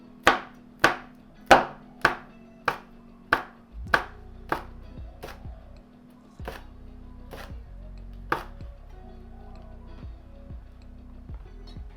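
A knife chops chili diagonally on a cutting board for a Thai shrimp curry stir fry, about a dozen crisp, close knocks in an even rhythm that thin out and slow toward the end, with a low steady hum underneath.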